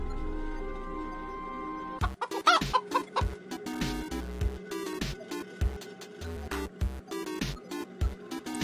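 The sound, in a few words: giant mutant chicken clucking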